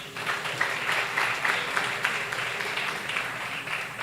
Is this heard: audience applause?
yes